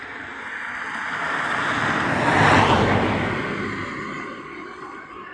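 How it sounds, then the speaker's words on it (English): A car approaches, passes close by and fades away, its engine and tyre noise swelling to a broad rush and then receding. "Apart from the sound of passing car engines."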